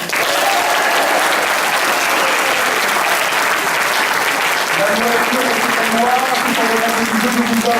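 Studio audience on a French radio game show breaks into loud, continuous applause that stays dense and steady, with faint voices and a few tonal sounds rising underneath toward the end.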